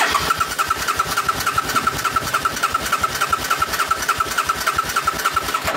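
A 1996 Suzuki GL 800 motorcycle engine being cranked over during fault finding, a loud steady rhythmic chugging of the starter turning it without catching, heard close and alone.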